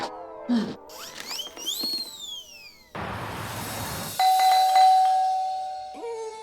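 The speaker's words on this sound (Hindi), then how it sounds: "फिर से घंटी बजा के भाग गए तुम लोग?" A doorbell chime rings, followed by a sustained electronic tone, with hissy noise and faint voices in the background.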